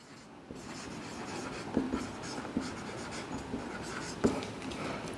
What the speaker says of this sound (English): So we need to write down our answer.